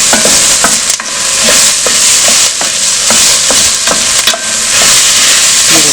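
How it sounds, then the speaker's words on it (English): Garlic stirred and frying in a pan for a creamy veggie soup, a steady close sizzle broken by regular scraping stirs of a utensil roughly every half second, with no talking. "now I'm going to add the garlic. And I'm going to cook this for about 2 minutes."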